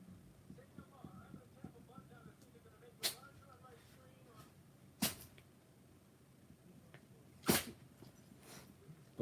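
A male pet dog named Charlie sneezes three times, each a sharp, abrupt burst separated by a few seconds, close by over a soft, busy indoor background.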